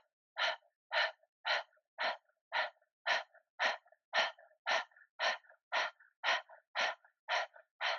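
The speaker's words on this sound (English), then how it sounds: "Breathing by the mouth." During a morning yoga routine, a person breathes out forcefully through the mouth in a quick, even series of about fifteen sharp exhalations, close and distinct, with silence between each breath and no talking.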